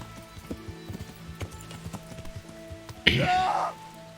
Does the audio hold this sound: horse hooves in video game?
yes